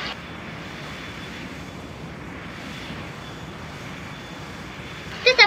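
Engines of a Boeing 737 MAX 8 airliner, a steady broad roar holding at an even level throughout, broken by a few brief louder bumps right at the end.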